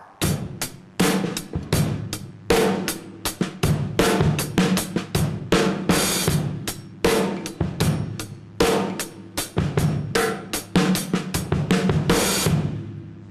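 Drum set played with sticks in a syncopated rhythm accented on beats 2 and 4, loud close hits with crashing cymbals in a steady repeating pattern, ending on a ringing cymbal decay.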